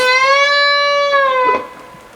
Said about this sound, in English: Then go 7B, 10B, bend, hold, release. Sounds like this.